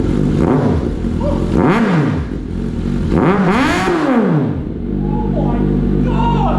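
A Suzuki GSX650F motorcycle with a newly fitted aftermarket exhaust revs hard and loud, rising and falling in repeated swooping bursts close by, with a steady throbbing idle between revs.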